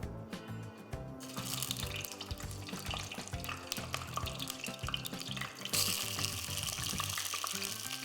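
Pork ribs that were already boiled in water sizzle and crackle as they fry in a pan to turn golden. A brief quiet opening gives way to continuous frying noise broken by sharp clatters and stirring.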